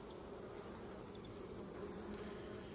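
Honey bees in an open hive during a queen check make a dense, steady buzzing drone, close and continuous, with no voices.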